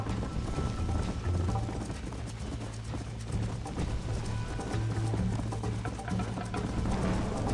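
Galloping horse hooves in the video game Red Dead Redemption, a steady fast clip-clop rhythm running throughout over a continuous game background hum, with an occasional snort.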